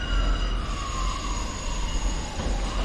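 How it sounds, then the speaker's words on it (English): TransPennine Express train arriving at a platform at Bolton station: a steady loud rumble of rolling wheels with a long high squeal slowly falling in pitch as it slows, heard without talking. "a very delayed Transpennine Express is going to come in"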